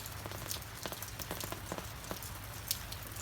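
Rain falls steadily outdoors on an open-air cooking spot, a soft continuous patter with scattered sharper drop hits and no voices.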